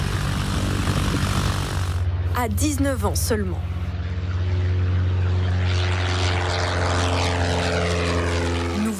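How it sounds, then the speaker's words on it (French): A Piper PA-28 single-engine propeller airplane gives a steady, loud, droning engine hum from close range throughout, with a voice talking over it briefly early on. "aux commandes de cet avion Piper PA-28."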